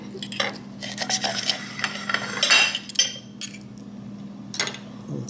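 A knife and fork work through a bacon-wrapped jalapeno popper with melted cheese, air-fried in a Ninja Foodi Smartlid OL701. Scattered scraping and clinks of cutlery against a dish come through over a steady low appliance hum.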